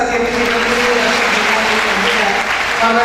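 Loud, steady applause from a ceremony audience at a women's education and safety event in Amroha, filling about three seconds with dense clapping and faint tonal hum beneath.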